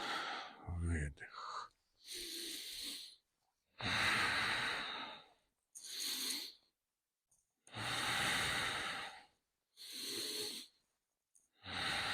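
Slow, deliberate exhales and inhales during a guided breathing exercise from armed forces health workouts, six or so long breaths alternating evenly with short silent gaps, close and clear.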